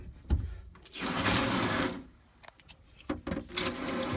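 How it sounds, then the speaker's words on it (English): Water runs from the shower in a 1997 VW T4 Autosleeper Clubman campervan, a steady close hiss that breaks off briefly partway through and then resumes, with a few knocks and handling clatters. "I'll show you the shower working."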